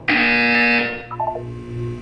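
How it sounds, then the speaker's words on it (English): Harsh electronic buzzer from the video game Portal 2 sounds once for about a second, loud and close, then a short descending electronic tone follows. "When you hear the buzzer, look down at the floor."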